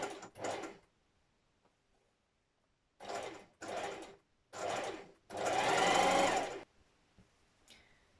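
A sewing machine stitches a skinny jogger pocket bag closed in short bursts: a quick double run, pauses, three brief runs, then one longer steady stretch, all fairly quiet and close by.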